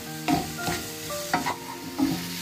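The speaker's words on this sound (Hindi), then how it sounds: "अब हम इसमें डालेंगे हरी शिमला मिर्च और लाल शिमला मिर्च। 2 मिनट तक इसको कुक करेंगे।" Green and red bell peppers stir-fried in a pan for a paneer appetizer, with a steady sizzle and a few distinct scraping stirs, close and alone with no talk.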